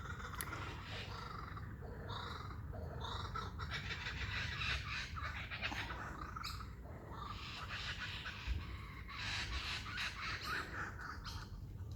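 Magpies and kookaburras calling together outdoors, an ongoing mix of warbling and chattering bird calls, fairly close and continuous.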